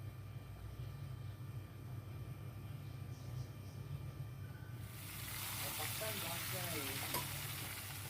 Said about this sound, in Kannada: ಟೊಮೊಟೊ ಆನಿಯನ್ನು ಹಾಕಿ ಚೆನ್ನಾಗಿ ಫ್ರೈ ಮಾಡ್ಕೊಂಡು ಬ್ರೌನ್ ಕಲರ್ ಬರೋವರೆಗೂ ಫ್ರೈ ಮಾಡ್ಕೋಬೇಕು